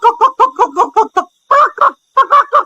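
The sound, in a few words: rooster clucking in a cartoon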